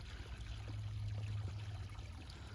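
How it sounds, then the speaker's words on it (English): A very small river flows through a snowy forest in a soft, continuous trickle and babble of water, quiet and steady with no voices. "There is a small water river, very small and nice. You can hear the voice of the water rivers."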